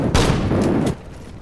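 A short, dense burst of rapid gunfire in the Sudden Strike 4 war strategy game, set in the Battle of Okinawa, rattles loudly for under a second, then cuts off to quiet.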